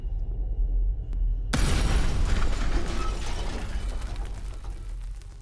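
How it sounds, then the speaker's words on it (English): A small natural gas explosion during a gas-equipment safety test: after near silence, a sudden loud boom bursts out and decays into a rumbling, hissing tail over several seconds. "Is this gas that explodes so?"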